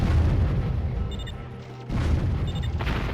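Mortar artillery firing in a video game: two heavy, muffled booms about two seconds apart, each followed by a rumbling tail, with a faint electronic chirp over the top.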